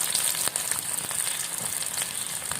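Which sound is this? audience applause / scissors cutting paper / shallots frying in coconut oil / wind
shallots frying in coconut oil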